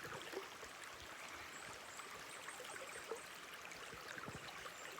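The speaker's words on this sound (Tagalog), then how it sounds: "Tapos kanang tingog sa tubig." Steady flowing stream water, a continuous soft rushing and trickling that stays even throughout, with no voices.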